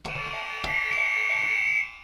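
A single electronic buzzer sounds in a quiet room for nearly two seconds, a steady bright tone that cuts off cleanly, with no talking over it.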